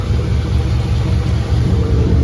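A two-door Chevrolet Tahoe with an LS V8 swap idles through a new dual straight-pipe exhaust, a loud, close, deep and lumpy rumble with a steady pulsing throb and no talking over it.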